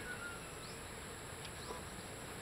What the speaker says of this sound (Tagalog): Tuwing maga dito maraming bubuyog na maliliit.